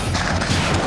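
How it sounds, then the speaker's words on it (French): A loud, booming explosion fills the whole second with a dense, close roar of rumbling blasts and crashing debris, sustained rather than a single crack. "Wow, quelle explosion!"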